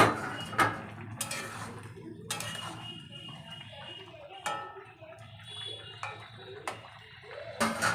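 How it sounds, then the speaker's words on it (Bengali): A metal lid is lifted off a pot of vegetable curry, giving several sharp clanks and clinks spaced over a few seconds against a quiet kitchen background, with no talking. "আবারও ঢাকনাটা খুলে নেব।"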